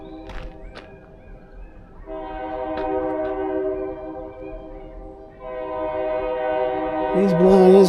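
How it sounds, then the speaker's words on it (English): A freight train blows its horn along the Montour Trail near Chartiers Creek, sustained chord blasts from a distance that grow louder toward the end, with quiet outdoor ambience between. "He's blowing his horn."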